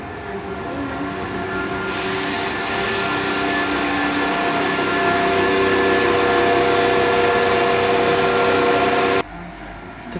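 Class 172 diesel trains 172216 and 172222 departing Olton station, loud steady engine drone with rising tones and a hiss, cutting off sharply near the end.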